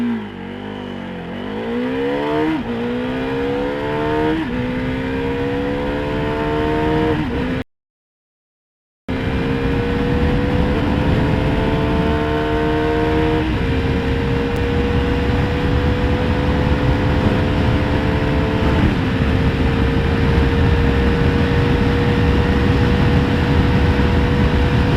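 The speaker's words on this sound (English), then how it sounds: "I'll just do a short acceleration run here for you guys." A Bajaj Dominar 400 motorcycle accelerates hard, its engine revving up through several gears with rising pitch and shifts, loud and close with heavy wind noise, broken by one brief dropout.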